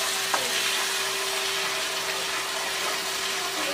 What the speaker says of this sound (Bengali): দেখুন ভালো করে আমি মশলাটা ভেজে নিয়েছি